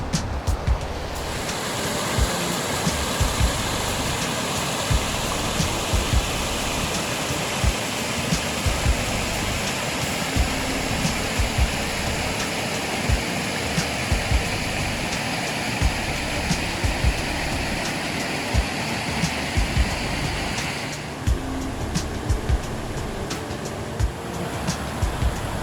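Continuous loud rushing water from a small waterfall near Parry Sound, Ontario, a dense roaring wash with wind buffeting the microphone, steady for the whole stretch with no voices.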